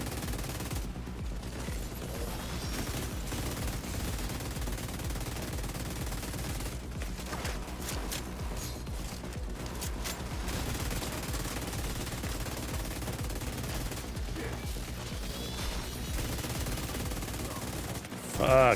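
Sustained machine gun fire emptying a magazine in The Division 2 video game, long rapid bursts of gunshots running almost continuously at moderate loudness, with brief pauses and some game sounds mixed in.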